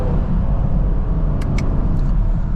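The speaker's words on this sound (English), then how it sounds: "when you really get in the higher RPM, the V8s have a really good tone to them" A deep V8 engine drones steadily under mild acceleration from second gear, a low heavy rumble heard from inside the car, with a couple of faint clicks.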